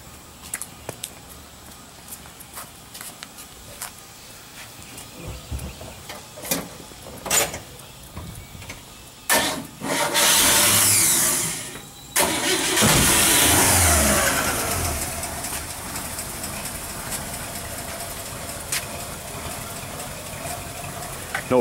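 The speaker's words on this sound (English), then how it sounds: "Can we hear it start?" A 1955 Chevy pickup engine cranks and catches, then revs and settles into a loping idle with a mild cam, loud and close, with a few sharp knocks and clatters before it starts.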